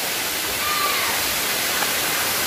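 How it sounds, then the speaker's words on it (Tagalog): A small waterfall at Batlag Falls, with clear water pouring over rocks, gives a steady, even broadband rush that fills the whole stretch without pause. "Ito yung maliit na falls."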